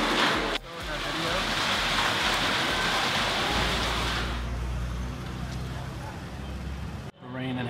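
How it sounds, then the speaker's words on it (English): Steady heavy rain and hail falling outside during a stay for a Nepali wedding, a continuous loud hiss that thins after a few seconds and ends with a sharp cut. "we can't really leave because it's hailing out"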